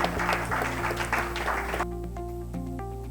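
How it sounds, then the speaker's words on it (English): Audience clapping at a panel session on African aviation liberalisation, a short round of hands over a steady hum that cuts off midway, leaving quieter room tones and tonal sounds. "Let's clap for him again."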